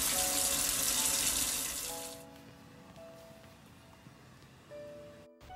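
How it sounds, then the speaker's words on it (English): Water streams from a kitchen tap as hands are washed, a loud, steady rush for about two seconds that drops to a softer trickle, followed by a brief knock near the end. "First of all, we have to wash our hands."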